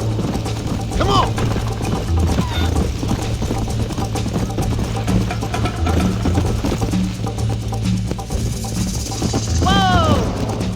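Horse hooves pound in a fast gallop in Red Dead Redemption, a continuous rhythmic clatter mixed with game noise while voices talk over it.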